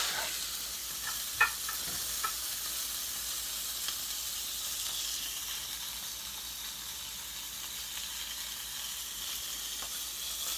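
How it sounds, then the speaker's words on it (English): A beef burger patty fries on a stove, a steady soft sizzle and hiss running throughout at low volume with a couple of faint ticks, no voices. "just long enough to cook up this burger patty"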